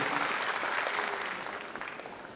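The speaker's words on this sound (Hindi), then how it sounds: "एक बार जोरदार ताली तारिक अनवर साहब के इस खूबी के लिए जरूर बजनी चाहिए।" Sustained applause from a crowd at a political rally in Bihar, dense and steady clapping close by that eases slightly toward the end.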